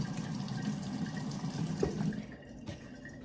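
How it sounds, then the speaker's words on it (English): Water trickles and drains through a mini terrarium in a soft, continuous gurgle with a few drips. The flow is close and quiet, then eases off near the end. "This water should be draining."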